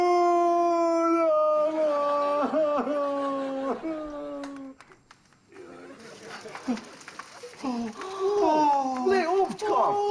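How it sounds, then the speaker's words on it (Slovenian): A dog howls in long, wavering, tonal calls that rise and fall, with a brief lull midway before the howling resumes, close and loud, and faint voices or other sounds mixed in behind. "Ne, to je en drugi pes."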